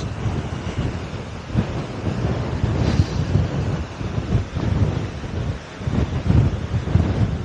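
Strong wind gusts buffet the microphone outdoors at a rock-hewn church site on a mild day of about 20 degrees, a steady rumbling roar with swelling gusts throughout.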